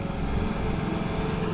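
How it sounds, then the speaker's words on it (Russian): A lawn mower runs on a karting track, giving a steady, droning engine rumble at constant volume. "газонокосилка катается по трассе."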